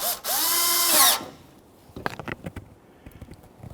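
A power screwdriver drives small Phillips screws to fasten the lower bumper to the shield on a Nissan Frontier, giving one loud, close whirring burst that rises and falls, followed by scattered clicks and handling taps.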